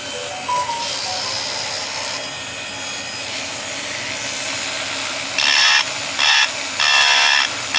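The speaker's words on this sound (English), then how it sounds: "Let me just get my little grinder out. I'll show you. A little Dremel." Dremel rotary grinder cleaning up a part of an AMT 1963 Corvette plastic model kit, a high steady whine with short bursts of louder grinding as the tool touches the part.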